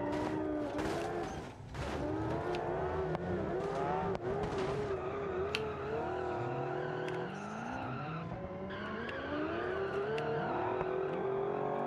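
A car fitted with a Hyundai offroad engine drives in the BeamNG driving game, its engine note rising and falling as it revs and shifts, with tire squeals and skids over the continuous engine drone.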